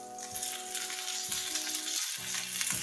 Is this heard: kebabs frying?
yes